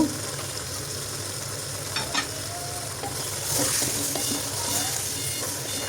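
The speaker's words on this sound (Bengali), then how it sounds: "আলু পেঁয়াজের বেরেস্তা দিয়েও বেশ কিছুক্ষণ নাড়াচাড়া করে ভেজে নিব" Potatoes and fried onion crisps frying in oil for aloo gosht, a steady close sizzle with the scrape and shuffle of a spoon stirring through the pan, no voices.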